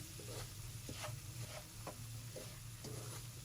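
Semolina roasting in a pan over medium heat for suji halwa makes a quiet, steady dry sizzle. A spoon scrapes through it in a regular rhythm, with no voice.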